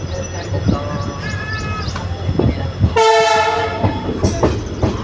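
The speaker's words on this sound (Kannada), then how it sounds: "ಬೀರೂರು ಬಿಟ್ಟಿದೆ ಟ್ರೈನ್" A passenger train pulls out of Birur station in Karnataka, its horn sounding in a long harmonic blast midway, with steady rumbling and clacking of the cars underneath and brief voices nearby.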